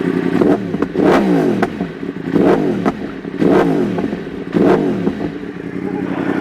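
Yamaha motorcycle engine revved repeatedly as the throttle is twisted, four loud close blips rising and falling in a regular rhythm over an idling rumble.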